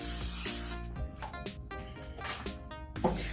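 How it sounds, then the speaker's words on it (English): Cooking spray hisses loudly onto a baking pan in one sustained burst, then gives way to quieter rubbing and clattering as the pan is handled up close. "I'm gonna grease my pan with a cooking spray and place the chicken."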